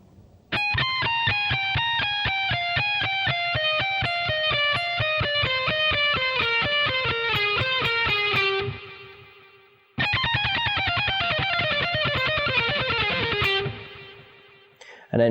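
A run on distorted electric guitar, played slowly: a steady stream of evenly picked notes descending in pitch, loud and alone, then a short break and a second pass of the run.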